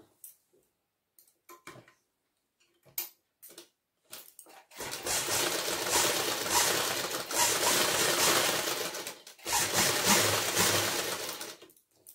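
A sewing machine runs steady chain-stitch bursts while top stitching along a back neck zip on a kurti frock, preceded by scattered clicks and handling taps, then two long loud runs separated by a brief pause.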